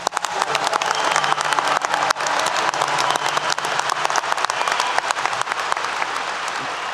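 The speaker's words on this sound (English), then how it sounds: "Graduating class of 2022, please give yourselves a well-deserved round of applause." A commencement ceremony crowd of 2022 graduates applauds themselves, dense loud clapping sustained throughout with scattered cheers from a large gathering.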